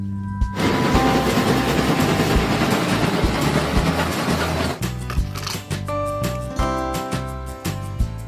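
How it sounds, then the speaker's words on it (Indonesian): A passing train with broad rumbling rail noise for the first few seconds, then a rhythmic pattern of clicks and tones over a steady background, loud and close throughout. "Train. Kereta api."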